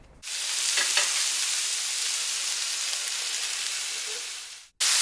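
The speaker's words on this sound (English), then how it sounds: "Just going to move these around on the griddle a little bit to get a little oil coating on them" Pork chops sizzle loudly and steadily on an oiled Blackstone flat-top griddle, a dense frying hiss that holds for several seconds, briefly cuts out, then resumes.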